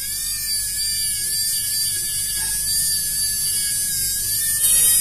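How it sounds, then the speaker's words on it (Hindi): A small 130 DC motor running steadily with its brushes pressed to raise the speed, giving a continuous high-pitched whine with a dense buzzing hum at constant loudness and no voices. "मोटर काफी अच्छी चल रही है"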